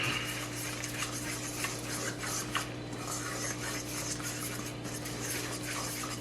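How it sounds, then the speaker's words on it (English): A utensil scrapes and stirs through cornbread batter in a bowl, a continuous rasping, rubbing rhythm with faint clinks against the sides. "when you are mixing the ingredients together, you can do it slowly"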